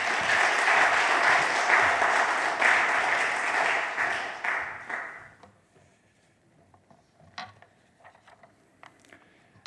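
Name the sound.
church congregation applause welcoming pastor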